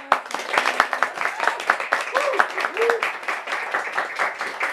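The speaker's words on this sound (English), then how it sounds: "Let's give our readers a round of applause." A round of applause from a small audience at a poetry reading night, with distinct individual claps in an uneven rhythm and a voice speaking briefly over it.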